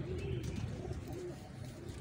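An aged pigeon coos softly and steadily close by, low murmuring calls running under faint background noise.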